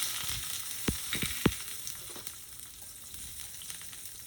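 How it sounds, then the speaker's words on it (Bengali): Garlic fries in hot oil for a village fish dish, giving a soft, steady sizzle with a few sharp clinks of stirring near the start, then a quieter, continuous hiss. "এবার কিছুটা পরিমাণ রসুনও ভেজে নেব। রসুনটাকে আমি দিয়ে দিলাম।"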